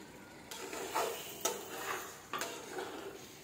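Spoon stirring onion paste into chicken karahi masala in a metal pot, a few faint scraping and clinking strokes spaced about a second apart against quiet background.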